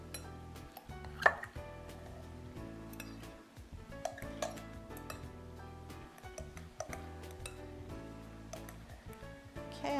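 A spoon clinks and scrapes in a bowl as a vegetable mixture is quickly stirred with egg as a binder, making faint, irregular taps and rattles.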